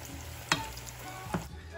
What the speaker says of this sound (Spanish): estas son algunas croquetas que freímos ahora de bacalao